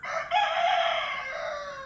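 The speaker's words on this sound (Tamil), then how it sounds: "கோழி கூவுது" A rooster crows at dawn, one long sustained cock-a-doodle-doo call, loud and close, heard alone without talking.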